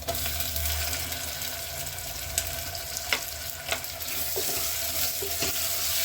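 Chopped tomatoes fry in a pan with a steady, moderate sizzle and bubbling, punctuated by a few light clicks and scrapes of a stirring spoon.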